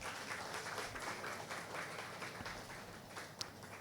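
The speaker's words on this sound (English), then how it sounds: "Please, another round of applause for our speakers." Audience applause for panel speakers at the close of a session: a dense, steady wash of many hands clapping at moderate distance, faint overall, with one sharper tap near the end.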